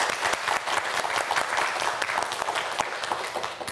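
A studio audience on a televised student quiz show breaks into steady, dense applause, many hands clapping together at an even level throughout.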